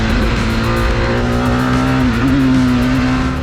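McLaren Solus GT single-seat hypercar with an 800-plus horsepower V10 under way, a loud, steady engine drone with a strong humming pitch that rises briefly and settles, close and continuous with no talking.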